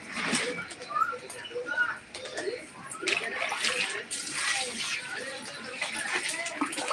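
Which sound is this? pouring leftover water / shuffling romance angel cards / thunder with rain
pouring leftover water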